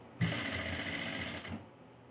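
A sewing machine stitches piping around the neck of a baby dress in one steady, fast, close run of about a second and a half, then stops, leaving quiet.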